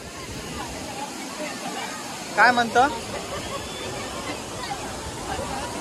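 Savdav waterfall gives a steady, broad rushing roar of falling water, heard from nearby, while people talk over it in short bursts.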